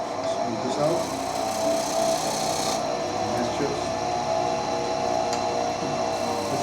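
Roughing gouge cutting a spinning wood blank on a lathe, a steady continuous scraping hiss with machine hum, close and fairly loud throughout.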